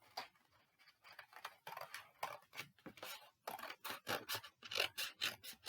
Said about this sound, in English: keep that placed with your other half and cut around the same shape